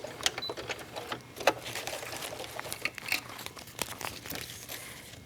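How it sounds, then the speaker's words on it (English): Sewing machine stitching a seam in a clear vinyl bag, running backwards and forwards, with crinkling plastic and irregular close mechanical ticks and whirs throughout. "I'm going to sew, and I'm going to sew backwards and forwards a few times"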